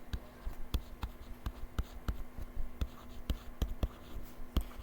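Pen strokes scratch out an algebra equation by hand, a steady series of short sharp taps and scrapes at close range, with no talking over them.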